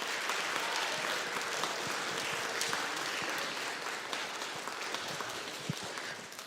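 An audience at a school awards event applauds the band students. The dense, steady clapping of many hands holds at an even level and fills the room without a break.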